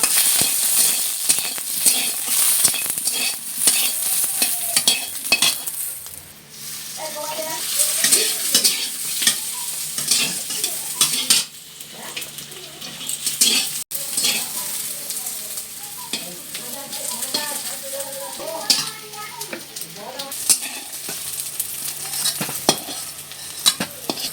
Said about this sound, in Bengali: এরপর আমি বেগুন দিয়ে দিচ্ছি, বেগুনগুলিকে ভালো করে ভেজে নেব।